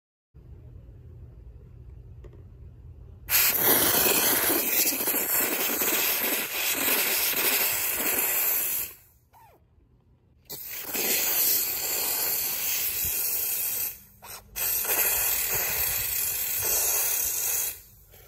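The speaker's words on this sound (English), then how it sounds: "We will be relying on the high pressure steam to clean, so we will just attach the accessory nozzle." A BISSELL Steam Shot hard surface steam cleaner blasts high pressure steam in a loud, steady close hiss, cutting off briefly twice between long bursts, no talking.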